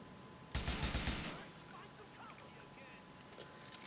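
Burst of AK rifle fire in GTA IV, a loud rapid volley lasting under a second, followed by a fading echoing tail and a quieter shot later.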